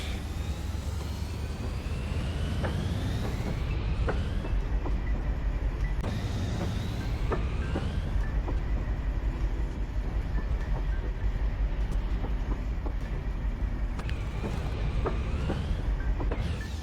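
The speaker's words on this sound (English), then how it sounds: "Train goes flying by." A train rushes past in the video game Mashinky, a steady loud rumble of rolling cars with rhythmic clacks and a whooshing swell, sounding alone.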